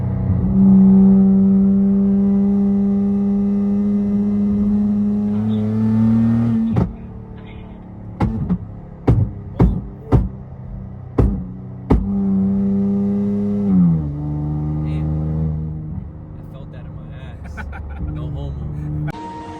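An Infiniti Q60 engine idles and revs on a flame map tune, with a run of sharp popping bangs from the exhaust in the middle, then settles back to a steady idle.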